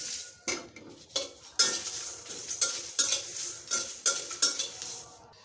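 Whole spices and pickle spices roasting in a dry pan, stirred with a series of regular metallic scrapes and rattles against the pan, close and clear with no talk.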